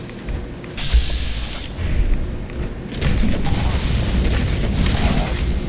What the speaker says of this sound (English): the cleansing fires of my napalm